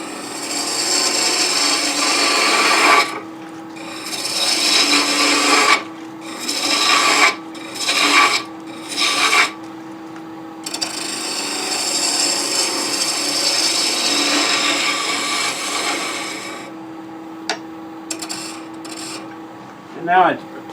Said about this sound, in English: spindle roughing gouge is really not a bad tool for working on the neck of this thing because it peels away wood very fast